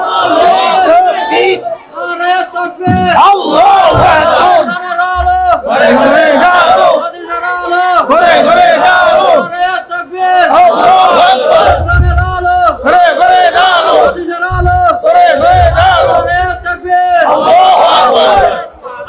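A large crowd roars a religious slogan in unison at a Bengali Islamic sermon gathering in Chattogram, loud, near and repeated in rhythmic surges, with an amplified leader's voice calling between the waves of shouting.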